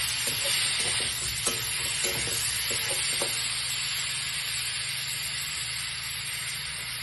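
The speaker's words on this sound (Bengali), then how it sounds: "মশলাটা অ্যাড করে ভালো করে কষে নেব" Spice masala for a rohu fish curry fries in oil in a pan, making a constant close sizzle and hiss with a few stirring scrapes early on and no talk.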